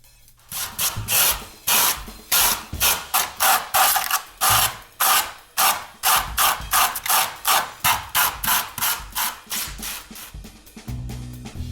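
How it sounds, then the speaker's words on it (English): Wire brushes and sandpaper scraping a polystyrene rock-wall sculpture in rapid rhythmic strokes, about two per second, loud and close with no talking. "Now finished with the hot wire, I go to work with the wire brushes and sandpaper."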